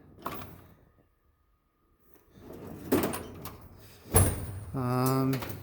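A few clunks and scrapes, then a metal tool chest drawer holding half-inch tools slides open with a ratcheting rumble; a voice speaks briefly between the sounds.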